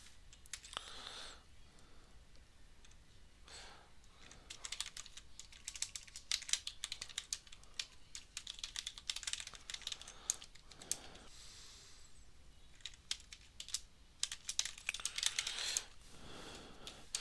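Someone types on a computer keyboard while building a Swing JFrame app in Visual Studio Code, in quick irregular bursts of close, crisp key clicks with short pauses, alone and fairly quiet.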